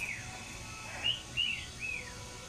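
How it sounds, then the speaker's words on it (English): Baby German Owl pigeons give a few thin, high, rising-and-falling chirps in quick succession, close by and fairly faint against a quiet background. "let's go take a look at the baby pigeons"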